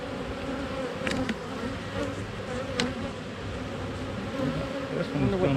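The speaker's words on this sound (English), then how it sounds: "A lot of bees in here." Dense honeybee buzzing fills a hive opened for a late December check, a steady close hum with a few brief sharper passes of individual bees near the ear.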